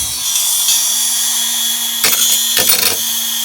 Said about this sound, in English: I'm going to get in here with the Dremel and cut off about a 1/16 of an inch